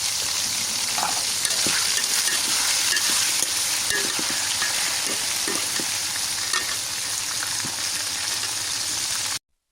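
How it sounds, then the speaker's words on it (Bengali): Chicken pieces frying in oil in a wok for chicken khichuri, a steady loud sizzle with occasional scrapes and clicks from stirring, continuous throughout without talk. "আস্তে আস্তে করে আমি গোশগুলা সুন্দর করে ভেজে নেব।"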